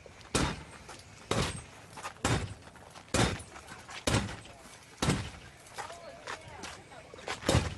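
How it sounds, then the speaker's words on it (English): A brick is hurled against window glass coated with security laminate film, with a series of heavy, close thuds landing about once a second; the glass does not shatter, and faint background noise fills the gaps. "And as he throws this brick, it normally would penetrate right through the glass"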